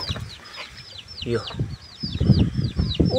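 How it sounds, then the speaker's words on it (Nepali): A rooster kept for cockfighting clucking close by in repeated short bursts, with higher chirps from other birds and a person talking over it. "त्यो कक फाइटको लागि ल्याएको मैले भाले।"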